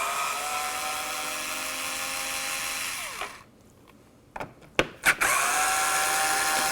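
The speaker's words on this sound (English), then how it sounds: "I'm going to take my Torque 30 bit here, and we're just going to remove this side mirror" A cordless power drill with a Torx 30 bit whines steadily while removing a side mirror on a 2010-17 Can-Am Spyder RT, winds down, then gives a few short bursts before running again at full speed, close and loud.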